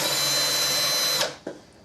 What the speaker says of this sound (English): I kind of started drilling my hole.